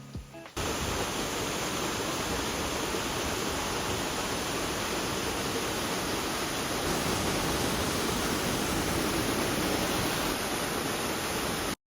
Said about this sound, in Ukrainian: заворожує просто шум води. Просто послухайте, як це все звучить